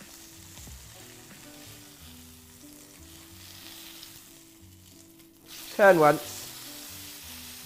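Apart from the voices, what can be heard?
beef steak searing in a hot pan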